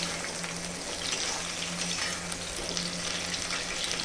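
Pointed gourd (potol) fries in oil in a pan, giving a steady, fairly loud sizzle and crackle that runs through the whole stretch with no voices.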